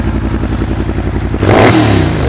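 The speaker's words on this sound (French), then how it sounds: "Est-ce que tu peux nous faire écouter le son de la ligne?" A Yamaha TDM 900 motorcycle fitted with a Black Widow exhaust with twin outlets on each side idles with a steady loping pulse, then is revved hard for a loud, close burst before dropping back.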